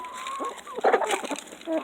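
Nearby chickens eating sunflower seeds and corn cluck and murmur in quick, uneven bursts, with a few louder clucks in the middle.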